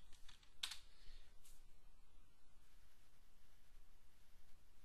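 Faint typing on a computer keyboard while a command is entered into a scripting editor: a quick cluster of soft keystroke clicks at first, then scattered light taps over a low steady background hiss.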